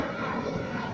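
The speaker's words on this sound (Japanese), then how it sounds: "なんだかんだで飛行機たくさん飛びますね。" A broad, steady roar of an airplane passing overhead near Senagajima, Okinawa, fairly distant and even in loudness, with no talking.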